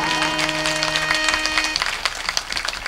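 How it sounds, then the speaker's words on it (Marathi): Audience at a religious kirtan gathering clapping loudly, rapid crowd applause over a fading sustained musical tone, continuing to the end. "तुमच्यासाठी जोरदार टाळ्या"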